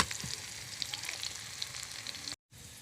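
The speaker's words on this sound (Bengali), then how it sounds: "তেল গরম হয়ে গেছে, এবার পেঁয়াজ কুচি দিয়ে দেবো। পেঁয়াজটা লাল করে ভেজে নেব।" Chopped onions sizzle and fry steadily in hot oil in a pan while a mushroom dish is cooked, a constant moderate crackle with a brief drop to silence near the end.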